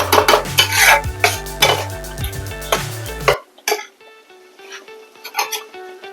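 Spice paste for a cauliflower rezala being stirred and fried in a pan: a burst of rapid, close spoon clatter and scraping over background music, then quieter scattered taps.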